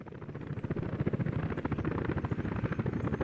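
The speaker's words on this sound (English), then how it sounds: "Helicopters are arriving." Helicopters arrive in the Soviet-era city-building game Workers & Resources: Soviet Republic, a fast, low rotor chop thudding continuously and fairly faintly, with no voices over it.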